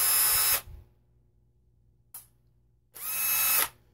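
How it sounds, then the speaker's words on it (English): A Panasonic 15.6-volt cordless drill whirs in three bursts, with a short blip between two longer runs and near silence in the gaps, close to the microphone. "We have the drill right here."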